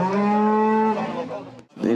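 A cow at a livestock market lets out one long, loud, close moo with a strong tone that fades and breaks off near the end, followed by the start of another.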